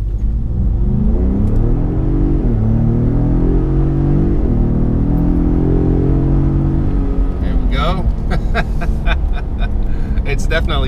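A Ford Raptor truck launches hard in sport mode, its engine rumbling loudly and climbing through quick gear shifts, close and powerful, before fading into road and wind noise as a voice speaks.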